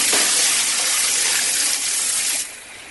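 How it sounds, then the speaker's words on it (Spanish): A bucket of water dumped onto fire flames, a loud close gushing rush of water that fades off near the end, with no voices. "Decididamente cogí un cubo de agua que vertí sobre las llamas."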